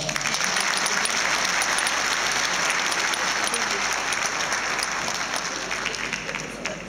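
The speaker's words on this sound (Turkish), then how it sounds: "arkadaşlara bir alkış daha" A large audience at a commemoration night for the Çanakkale martyrs applauds in a dense, sustained roar of clapping that stays loud and even throughout, tapering only slightly at the end.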